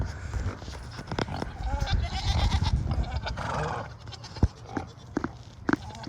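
Goats at a very large goat ranch, bleating in a noisy outdoor crowd, with a few sharp nearby calls toward the end and a voice talking softly in the background.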